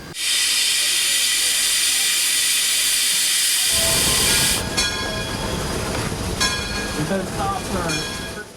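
A gear-driven steam train on a steep mountain railway hisses loudly with a long burst of steam, then heavy mechanical chugging and clanking of the rail engine close by.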